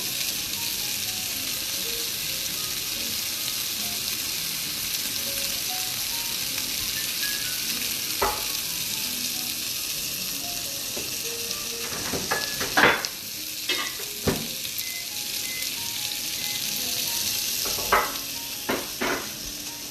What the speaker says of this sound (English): We're going to let that sear off.